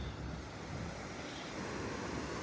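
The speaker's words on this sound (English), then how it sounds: "the water basically runs underneath of us, and it almost feels like an earthquake. There's a pretty good vibration, and the water shoots out" Sea water surges beneath a rocky cove along the Northern California coast, a continuous broadband rushing roar like heavy surf or wind, steady and close throughout.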